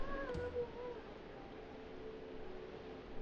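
A single short cat meow in Minecraft PlayStation 4 Edition near the start, then quiet background hum with faint tonal sounds, soft and game-like.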